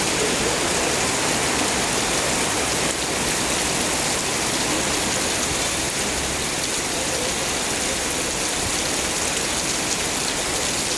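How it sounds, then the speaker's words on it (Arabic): Heavy, steady rain pours without a break on a street in Alexandria, Egypt, a dense hiss of drops drumming on a covering overhead and splashing on the pavement. "هل عندكم امطار غزيرة"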